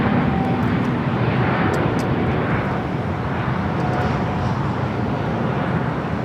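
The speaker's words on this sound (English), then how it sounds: "United Dreamliner touching down" A United Boeing Dreamliner airliner touches down at LAX, heard as a steady, loud broadband jet roar that holds level throughout with no breaks, with no voices audible.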